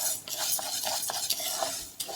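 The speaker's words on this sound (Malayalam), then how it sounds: "ഈ ഒരു മുതിര നല്ല പോലെ വറുത്തെടുക്കണം." Horse gram dry-roasted in a pan is stirred briskly, each pass of the spoon scraping and rattling the hard little seeds against the metal, a near, uneven series of gritty swishes with no voices.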